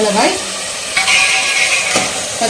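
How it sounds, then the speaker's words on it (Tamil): Green chillies and tomatoes sautéed in a pan for a chicken biryani, with loud close scraping stirs coming in three separate strokes over a soft frying hiss. "மிளகாயும் தக்காளியும் சேர்த்து நல்லா வதக்கலாம்"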